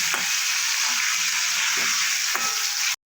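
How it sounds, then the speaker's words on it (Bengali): Thin-cut potato strips frying in hot oil until reddish brown, giving a loud, steady, close sizzle with faint stirring scrapes, cutting off abruptly near the end. "আর এগুলো একটু ভালো করে লাল লাল করে ভেজে নিতে হবে"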